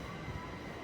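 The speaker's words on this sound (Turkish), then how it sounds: "Tren oradan gidiyor." A train passes near a large shopping centre in Oberhausen, a steady low rumbling roar with a faint tonal whine, heard briefly without talk.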